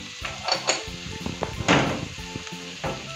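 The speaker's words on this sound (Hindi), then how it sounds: "फ्राई होने के लिए सॉटे होना है, जस्ट हल्का सा" Vegetable noodles sizzle and crackle as they are sautéed in a pan, with a steady frying hiss broken by intermittent clatters and scrapes of a utensil stirring against the pan, close up, with no talking.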